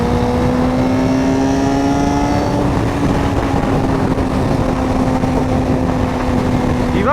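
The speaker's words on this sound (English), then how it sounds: "the car that just passed me, the Charger up there" A Dodge Charger drives past on a rural road, its engine tone held steady and fairly loud under a broad wash of road and wind noise, without any talk.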